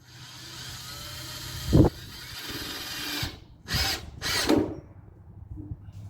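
A power drill drives fasteners through metal sheeting into the wooden posts of a raised garden bed, giving three short, close whirring bursts over a low background hum, with no talking.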